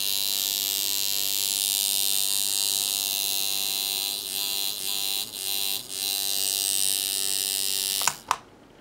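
An iron coil tattoo machine running on 7 volts gives a steady, loud electric buzz close by, dipping briefly a few times before cutting off near the end.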